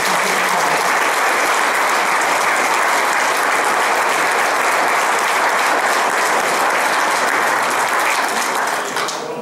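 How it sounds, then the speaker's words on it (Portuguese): Sustained loud applause from a large audience at a volunteer firefighters' anniversary ceremony, honoring women firefighters; dense, even clapping fills the whole stretch and tapers slightly at the very end. "Eu pedia-vos desde já até uma salva de palmas para as mulheres bombeiras."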